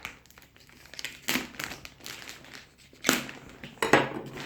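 Plastic packaging crinkles and crackles close up in irregular bursts as a blue polo suit is unwrapped, with quiet gaps between the louder rustles.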